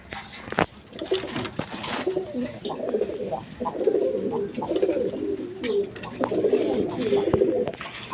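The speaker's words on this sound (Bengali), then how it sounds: "এইখানে এক পেয়ার গররা কবুতর আছে দেখেন এক পেয়ার কালারিং গররা কবুতর দেখেন" A pair of coloured Gorra pigeons coo in repeated low, rolling phrases, fairly close, with faint background rustle and clatter.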